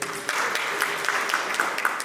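An audience claps together at a gathering, a steady patter of applause with a few sharper claps standing out, filling the room without any voices.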